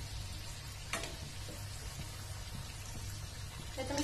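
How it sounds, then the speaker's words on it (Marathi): Dry fruit modak deep-fry in oil at medium heat with a faint, even bubbling sizzle close by, broken by a couple of soft knocks and a light clink near the end. "हे आता आपल्याला व्यवस्थित खरबूस होईपर्यंत तळून घ्यायचं."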